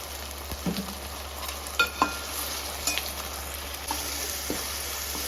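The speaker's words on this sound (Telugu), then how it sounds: "బాగా వేగాలన్నమాట" Cumin powder, turmeric and chilli powder fry in a pan with already-fried eggs for egg biryani, a faint steady sizzle broken by a few sharp clicks and scrapes of stirring, with no voices.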